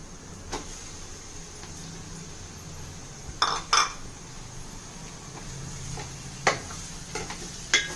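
Raw prawns are dropped into a pan and stirred, giving a soft sizzle with a few sharp scraping and clinking strikes against the pan.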